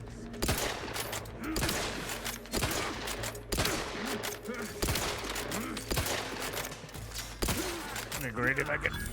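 Gunfire in The Outer Worlds 2 rings out as repeated loud shots in irregular bursts roughly every second, with a voice speaking at times between them.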